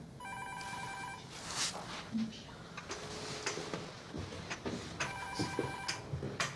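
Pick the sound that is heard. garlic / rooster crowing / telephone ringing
telephone ringing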